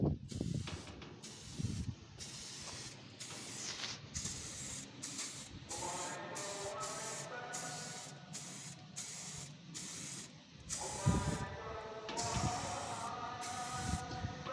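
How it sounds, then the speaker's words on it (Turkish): A spray paint can hisses in repeated short bursts as an old coop cage gets painted, each spurt close and sharp with brief gaps between them. "Arkadaşlar şu şekilde sprey boyamızla güzelce boyuyoruz."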